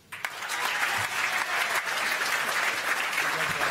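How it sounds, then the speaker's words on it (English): An award-night audience at the Phelan Medal applauds as a speaker leaves the stage. Full, even applause swells in after a couple of early claps and holds steady and loud throughout. "Keep the applause going as Ian leaves the stage"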